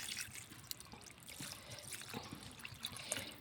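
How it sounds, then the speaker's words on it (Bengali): Water trickling and pouring into a pot of desi chicken curry, a quiet close splashing stream with small drips, heard alone. "এবার আমি একটু পানি দিয়ে দেবো।"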